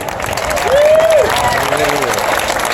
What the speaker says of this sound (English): Another round of applause, please, for Nashville Kendo Club